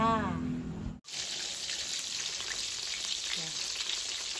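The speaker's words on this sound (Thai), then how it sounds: "เอากำลังทอดประทูจ้ะ ทอดประทูให้เหลืองๆหอมๆ" Thai-style mackerel (pla thu) frying in a pan of hot oil, a steady broadband sizzle that runs throughout after a brief cut near the start, close and fairly loud with no talk over it.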